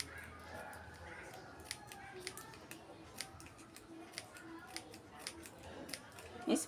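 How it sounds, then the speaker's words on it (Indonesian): Scissors snipping snack packaging into small pieces, a series of quick, faint crisp cuts in irregular rhythm close by, ending with a louder crinkle of plastic. "Nih kita gunting kecil-kecil."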